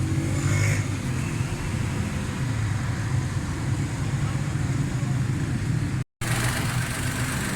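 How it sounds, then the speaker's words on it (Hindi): A Suzuki Cultus three-cylinder car engine runs loud and close with a steady, droning hum, broken by one brief dropout near the end. "अभी मैं स्टार्ट करता हूँ गाड़ी थोड़ी देर बाद"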